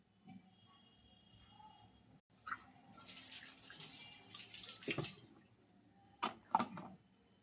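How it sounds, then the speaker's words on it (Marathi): Water heating in a cooking pot on a home stove, ready for an instant masala-free dish, bubbles and hisses with a steady low simmer, then rises into louder bursts of rolling bubbling toward the end, heard up close and alone. "छान उकळायला आले"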